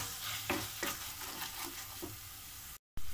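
Sizzling and frying of ginger garlic paste in a hot pan with intermittent stirring scrapes, steady and close, broken by a brief dropout near the end.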